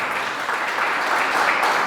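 An audience claps in a church gathering, with a dense, even patter of many hands that holds steady for a couple of seconds and is fairly loud throughout.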